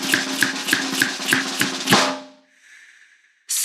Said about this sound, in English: I always like to give a snap salute to my good friends.